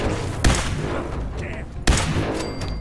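Enemy gunfire aimed at the player in Fallout 4: two loud, sharp shots land about a second and a half apart over a steady rumbling background of battle noise.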